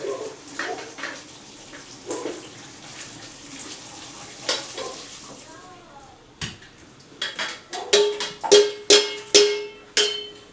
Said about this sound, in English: So we're going to take them off the heat. Go over the colander.